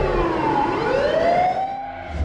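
A fire engine siren wails as crews rush to a burning house, its pitch sweeping up in one long continuous rise, loud and steady with low road rumble beneath.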